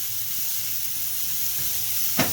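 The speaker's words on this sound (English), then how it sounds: "let this sausage fry up" Sausage frying in a pan, a steady bright sizzle and hiss throughout, close and even, with a brief sharper crackle near the end.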